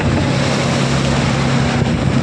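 A boat motors across the open sea during the Narmada parikrama crossing, its steady engine hum blending with loud, continuous wind and water rush.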